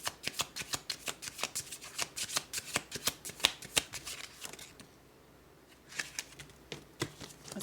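A deck of tarot cards shuffled in quick riffling bursts of sharp, papery clicks, pausing briefly near the end before a final flurry, close and clear with no talk.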